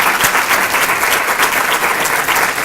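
Audience at a breast cancer presentation at Norbeck Country applauds in a dense, even wash of clapping that holds steady and loud throughout the short stretch, with no voices over it.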